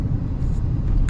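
A car driven slowly before parking gives off a steady low engine rumble and road noise, close and continuous for a brief moment with no voices.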